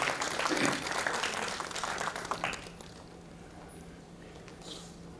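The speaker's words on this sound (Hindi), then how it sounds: "तालियों से सम्मान सभी करते रहें।" Audience applause at a student art exhibition's award ceremony, with dense clapping for the first couple of seconds that thins out and fades, leaving a quiet room with faint scattered claps.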